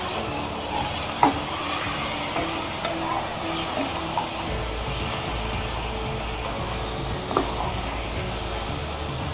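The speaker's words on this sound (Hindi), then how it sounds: "और इसे मैं अब अच्छे से चला लेती हूँ, क्योंकि मटन को पहले मुझे फ्राई करना था।" Mutton frying and being stirred in a pan gives a steady sizzle and hiss throughout, with a few sharp clicks of a utensil against the pan and a low rumble under it.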